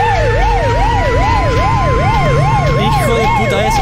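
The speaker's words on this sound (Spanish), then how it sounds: "¿Sirenas?" A loud, wailing siren in a Siren Head video game rises and falls in a steady, rapid cycle, continuous throughout over a low rumbling background.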